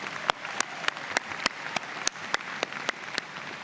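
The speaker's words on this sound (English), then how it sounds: "please join me in a round of applause for all these wonderful people" Steady audience applause at a spring university convocation ceremony, a continuous wash of clapping with occasional sharper individual claps standing out, no speech over it.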